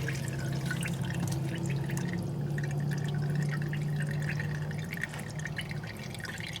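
Coolant drips and trickles steadily from the radiator of a Mahindra 8560 tractor, close and continuous, over a low hum that eases slightly toward the end.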